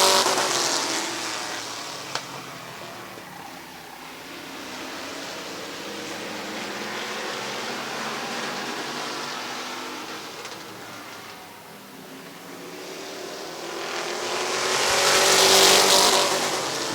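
Race cars circle Midvale Speedway, their engines swelling and fading as they pass at a distance, with a loud roar building near the end and no voices.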